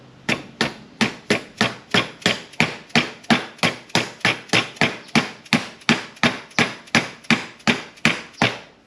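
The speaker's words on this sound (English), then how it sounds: "That's the dead blow hammer." A dead blow hammer taps a trailer bearing into place in a steady run of about twenty-five sharp, evenly spaced blows, close and loud, with no talking.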